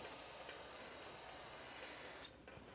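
Cleaner sprayed onto the front brake parts of a Toyota 4Runner, a close, steady hiss lasting about two seconds before cutting off, followed by a brief quieter spurt.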